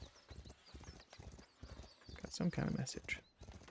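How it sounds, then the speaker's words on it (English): Horse hooves approaching in the medieval building game Foundation, a short clip-clop burst with a faint whinny near the middle, heard under steady talk. "But I hear a horse coming."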